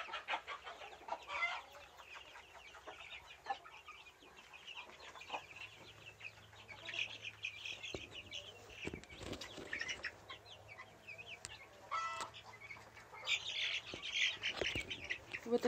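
Young chickens cluck and peep continuously in a pen, with occasional wing flutters and scratching, fairly faint and close.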